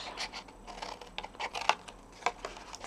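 Scissors snip through paper and card while a gift box is being made, a string of quiet, irregular crisp cuts and rustles close by, with no talk.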